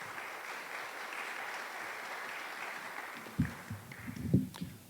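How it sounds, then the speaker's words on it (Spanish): Audience applause at a cultural heritage gathering welcoming a speaker, a steady mid-level clapping that thins out toward the end, where a few louder nearby thumps and handling sounds break in. "Lo recibimos con un fuerte aplauso."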